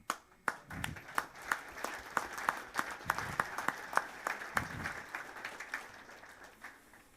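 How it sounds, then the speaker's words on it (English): Audience at a blockchain networking conference panel in Lugano applauds, a dense run of hand claps carrying through the room at moderate distance and gradually thinning toward the end. "And you actually anticipated to join me with applause"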